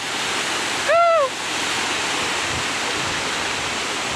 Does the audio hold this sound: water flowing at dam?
yes